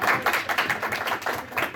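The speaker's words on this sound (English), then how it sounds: "Give a round of applause" A live anime convention game-show audience breaks into applause, a dense run of claps rising and falling in soft bursts across the short stretch, fairly close and without any voices over it.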